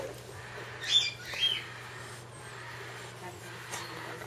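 A hawk-headed parrot gives two sharp, bright squawks close by, followed by quieter chirps, while a person talks softly in the background.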